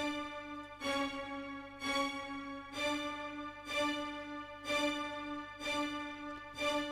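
Violin notes played in short, detached staccato bursts, about one per second, forming an even rhythm with a bright, harmonically rich tone.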